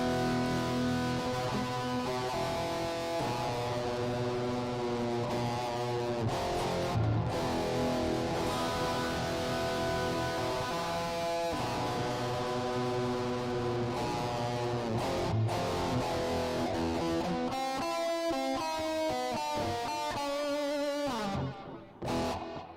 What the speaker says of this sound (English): Sweet, but we got some reverb and stuff on there